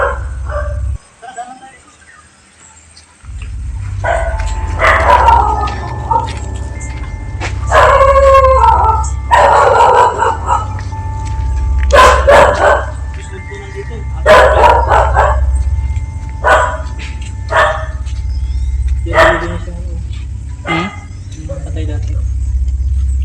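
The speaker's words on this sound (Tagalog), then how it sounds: "Di ba may aso dyan?" Dog barking in an abandoned columbarium, with repeated yelping, bark-like bursts over a steady low rumble and people talking throughout.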